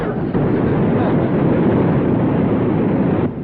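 A vintage truck engine labors and roars steadily while its wheels spin in mud, a loud dense rumble that holds almost unbroken before cutting off near the end.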